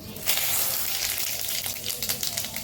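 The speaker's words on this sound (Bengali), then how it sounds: "এবার তেলের ভিতর দিয়েছি তেজপাতা আর জিরে ফোড়ন।" Bay leaves and cumin seeds sizzling in hot mustard oil, a bright, hissing crackle that starts abruptly and continues steadily, fairly close, with no talking over it.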